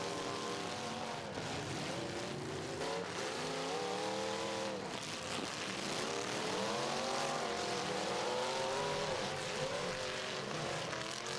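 Pro stock race car on a racetrack during qualifying, its engine misfiring and trying to refire, a loud continuous roar with wavering, rising and falling pitch sweeps throughout, heard at close range alone.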